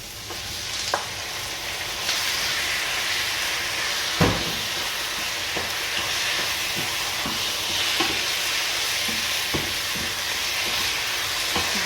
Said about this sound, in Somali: waxaan ku dari doonaa digaagii aan soo jarjaray.